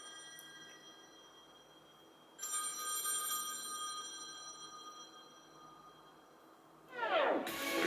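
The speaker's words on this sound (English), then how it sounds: "Got a phone ringing" An old-style telephone bell rings in bursts, a bright metallic trill that starts, stops and returns louder, ending in a clattering jangle, with no voices over it.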